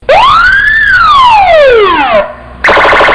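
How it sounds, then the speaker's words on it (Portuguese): A loud siren sweeps upward then slowly falls in a long wail, followed after a brief pause by a harsh buzzing alarm tone. "coloque a sua sirene para funcionar"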